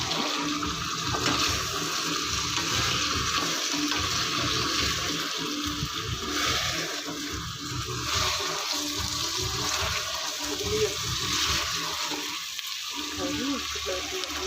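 Cumin and curry leaves frying in a pot for drumstick and mango sambar give a continuous, close, watery sizzle and bubbling that runs steadily, with occasional stirring noise.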